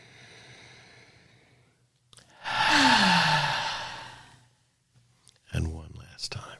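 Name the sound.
deep breathing in during breathing exercise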